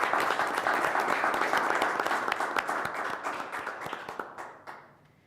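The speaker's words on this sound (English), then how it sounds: "We'll give you a round of applause." An audience at a regular board meeting bursts into steady, close applause that thins out and fades to a few last claps.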